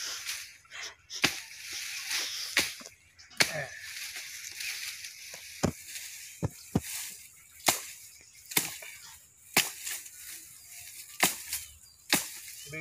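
An axe splits firewood for a bonfire outdoors in foggy Uttar Pradesh, with sharp, irregular chopping impacts about once a second, some louder than others, between quieter pauses.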